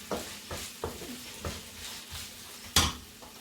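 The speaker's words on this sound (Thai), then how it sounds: "ขอไปผัด ผัดให้มันหอมนะคะ" A spatula scrapes rhythmically around a pan about every half second over a steady sizzle of frying ingredients for German frikadellen, ending with a sharper clang.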